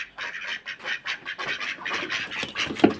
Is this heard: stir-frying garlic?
no